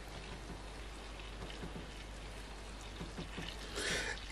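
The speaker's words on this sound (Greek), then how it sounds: "Και θα χρειαστούμε και 1 λίτρο νερό χλιαρό." Lukewarm water being poured for a recipe with olive oil, a steady soft splashing trickle that swells into a fuller pour near the end, close and moderately quiet with no voices.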